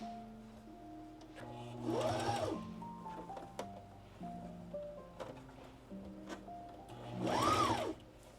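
A home sewing machine runs in short stitching bursts, a buzzing motor whir rising and falling between quieter pauses, with faint mechanical clicks, close and fairly quiet.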